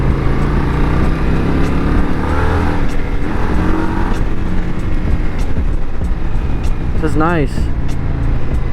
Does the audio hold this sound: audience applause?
no